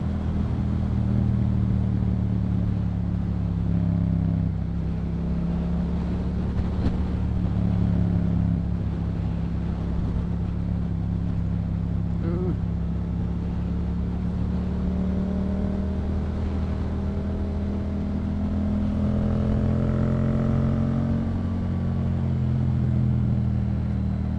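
A Yamaha MT-07 motorcycle fitted with a Yoshimura exhaust rides along at steady speed. Its deep, loud engine rumble holds throughout, with small rises and dips in revs and wind noise, and no talk.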